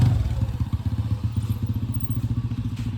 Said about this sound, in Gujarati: સુજલ ભાઈ બાઇક ચલાવું છે, સ્પીડ તો જુઓ ની.